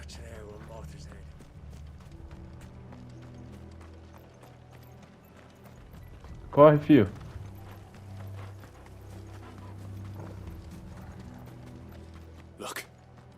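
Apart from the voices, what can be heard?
horses galloping, video game Final Fantasy XVI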